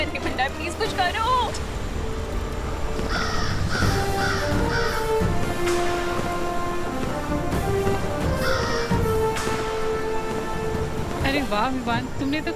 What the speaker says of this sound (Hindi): तुम उस त्रिनेत्री काक को सचमुच ढूंढ लाए